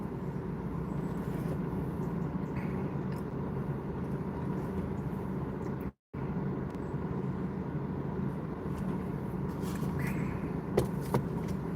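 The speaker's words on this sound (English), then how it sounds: "I have to have my car air conditioning on because chances are it will" A car idles with its air conditioning running, a steady low hum and blower rush filling the scene, broken by one brief dropout midway and a few faint clicks near the end.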